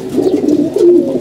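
Domestic pigeons kept on a home loft coo in low, rolling, throaty phrases, close and clear, one soft bubbling call running into the next with no voices over them.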